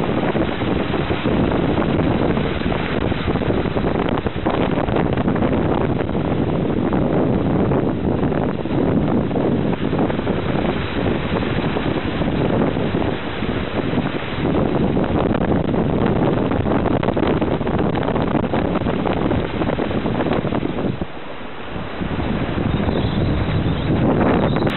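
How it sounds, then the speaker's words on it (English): Strong wind roars steadily across a sailboat running downwind through rolling seas, a loud continuous buffeting that fills the whole stretch, with rushing water beneath and only a brief dip near the end. "Windy and very rolly, but we're going downwind."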